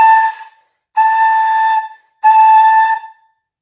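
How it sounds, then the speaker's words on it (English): Flute head joint played with a smiley embouchure and the airstream aimed straight over, three sustained clear tones with bright harmonics and breathy edges, close and loud with no talking. "A smiley embouchure with an airstream that goes straight over sounds like this."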